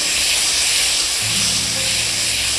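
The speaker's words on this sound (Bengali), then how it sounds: "কড়ায় কালো জিরে ফোড়ন দিলাম, তারপরে আমি টমেটো কুচিটা দিয়ে দিলাম।" Chopped tomato drops into hot oil tempered with black cumin in a kadai, and a loud, steady, broad sizzle hisses throughout, up close with no talk.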